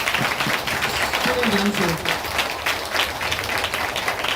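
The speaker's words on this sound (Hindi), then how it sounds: "सब ताली बजाएंगे यीशु मसीह के लिए" A church congregation claps along during a Hindi sermon, with continuous, moderately loud applause running under a voice.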